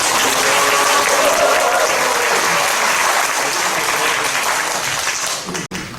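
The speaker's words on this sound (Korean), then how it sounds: "여러분의 힘찬 박수와 함성으로 시작하겠습니다." Loud, vigorous clapping and cheering from an audience at the opening ceremony of a farmers' policy forum, sustained and full before tapering off near the end.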